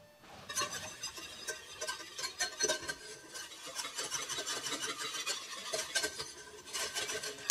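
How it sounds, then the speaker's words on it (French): Fresh yeast being whisked into a lukewarm liquid to dissolve it for waffle batter: a steady, rapid scraping and rattling of a whisk against a bowl, close and continuous with no talk. "je vais battre pour diluer, délayer la levure dedans"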